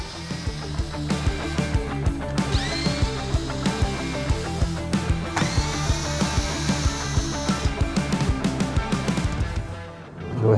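Three T30 screws on a trail cam bracket being loosened with a powered driver, giving repeated short whirring bursts with a couple of longer rising whines over a busy, rhythmic background.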